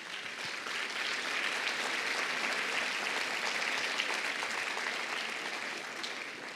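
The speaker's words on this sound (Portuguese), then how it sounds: "Pode aplaudir a Jesus." A church congregation applauds Jesus with steady, continuous clapping from many hands, an even wash of sound heard from some distance and fairly faint throughout.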